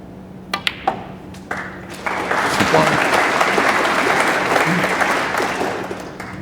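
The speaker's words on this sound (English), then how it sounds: "Yes, a nice round of applause." A snooker crowd at a UK Masters quarter-final bursts into a warm round of applause after the first red is potted, rising from a few scattered claps into sustained clapping, with a voice briefly heard beneath.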